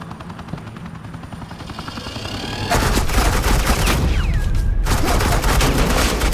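Suppressing gunfire in the video game Batman: The Enemy Within, a low rumbling hum that swells into loud, dense rapid-fire bursts with whooshing streaks over a constant roar.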